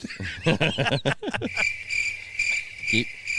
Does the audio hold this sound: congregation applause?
no